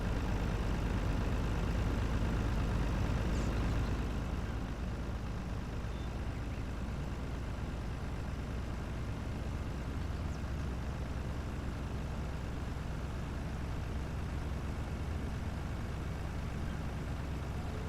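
A Lizard Warrior truck from Farming Simulator 19 drives along with a steady, loud, low engine drone. The heavy rumble stays constant with no talk over it.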